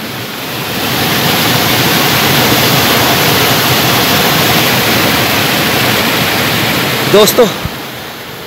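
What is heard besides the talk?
meltwater flowing out from under a glacier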